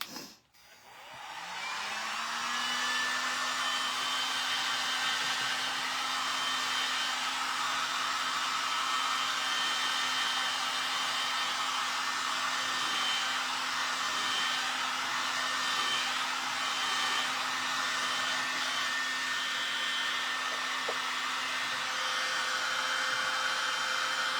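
A hair dryer blows steadily on a recycled craft piece, switching on with a brief rising whine and then holding a loud, even whoosh with a constant hum for the whole stretch.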